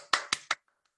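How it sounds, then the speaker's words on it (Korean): Three sharp, close hand claps in quick succession at a group meeting, then near silence with a couple of faint ticks. "다시 한번 박수 부탁드릴게요"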